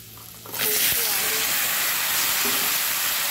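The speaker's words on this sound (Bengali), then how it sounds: "সবগুলো একটু ভেজে নিতে হবে তেলে।" Vegetables, with eggplant just added, sizzle and hiss loudly in hot oil in a pan, a sudden burst of steady frying that starts after a brief quieter moment and carries on, with faint voice-like tones underneath.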